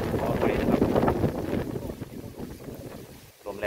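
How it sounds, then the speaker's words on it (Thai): Strong wind after a storm sweeps across a banana plantation, roaring and buffeting the microphone in uneven gusts while someone talks over it. "ลมแรงมากเพราะว่าพายุเข้าวัน2วันที่ผ่านมานะครับ"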